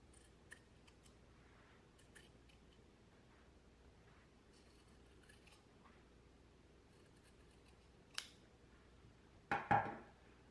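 Scissors trimming the fabric seam allowance close to a quarter-inch stitch line, a quiet room with faint handling, then a couple of brief, sharp snips near the end.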